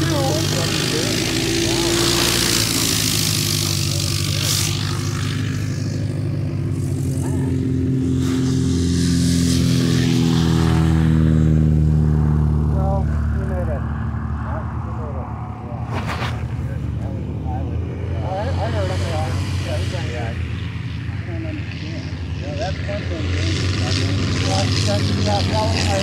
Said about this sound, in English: Look at big white Cessna 172.